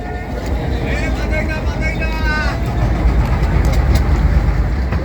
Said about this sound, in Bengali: এই মুহূর্তে আমাদের ট্রলার দুবলাচর থেকে খুলনার উদ্দেশ্যে ছেড়ে গেল